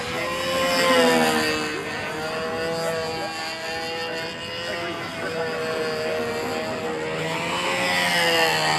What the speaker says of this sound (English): The only thing keeping the airplane up in the air above his head and the lines tight is the centrifugal force of that plane flying about 65 knots.